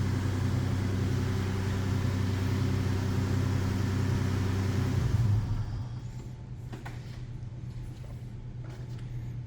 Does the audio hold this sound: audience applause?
no